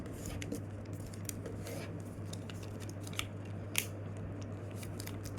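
Paper being folded into the wings of an origami Dagger Deluxe jet gives soft, crisp creasing and rustling, faint and close, over a steady low hum.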